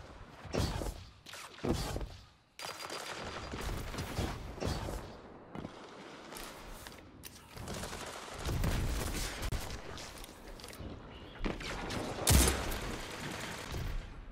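Gunfire bursts in the video game Destiny 2 during a sniper engagement, a run of loud sharp shots and rattling fire in clustered volleys with short gaps, mechanical clicks between them.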